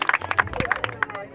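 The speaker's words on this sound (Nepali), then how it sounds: "भाइ भाइ जोडले ताली पड्क हजुर जोडले" Audience clapping at a street magic show in Nepal, with scattered hand claps mixed with crowd chatter and a performer's voice over them.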